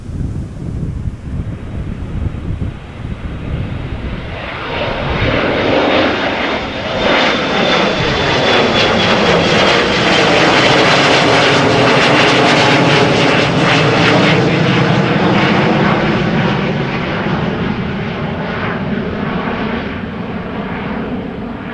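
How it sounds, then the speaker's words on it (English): A 175 jet takes off from the Kaagbaan runway at Schiphol, its engine roar building from a distant rumble into a loud, broad, sustained thunder with a rising whine, mixed with wind buffeting the microphone. "175 leaving from the Kaagbaan"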